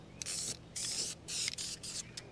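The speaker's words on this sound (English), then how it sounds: "we'll just go ahead and put a coat of paint on here. We're gonna do a couple of light coats." Short bursts of aerosol spray paint hiss onto the auxiliary tank of a 1980 Honda CT110, four or five close, even blasts separated by brief pauses.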